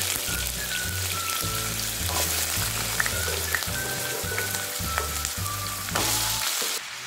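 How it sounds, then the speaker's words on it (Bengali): Potato and papaya pieces fry in hot mustard oil in a pan, a strong, steady sizzle and crackle with occasional pops, alongside a faint rhythmic thumping in the background. "প্রথমে আলু আর পেঁপের টুকরোগুলো একটু ভেজে নেব"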